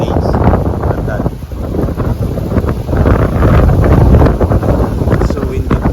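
Strong wind buffets the microphone continuously aboard a fishing boat out on the water at Yas Bay, a loud broadband roar with gusts swelling and easing, while a voice talks underneath.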